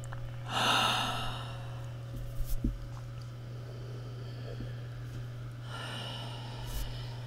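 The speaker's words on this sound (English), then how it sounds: "I'm going to take 3 long breaths." Long, deep breaths in a quiet room: a strong inhale-exhale near the start, a few short snort-like puffs midway, and another slow breath toward the end over a steady low hum, with no talking.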